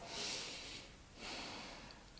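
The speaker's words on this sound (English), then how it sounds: "Just breathing, as always." Heavy, steady breathing during a standing yoga pose, two long airy breath cycles, close and fairly quiet with no talking.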